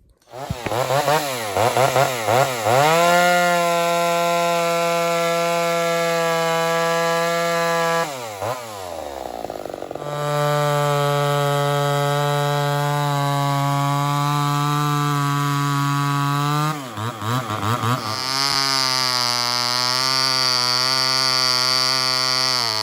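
A chainsaw runs loud and close, one build of the same saw compared against others, its engine revving up and settling into long sustained high-pitched whines with a few brief dips and a higher-pitched stretch at the end.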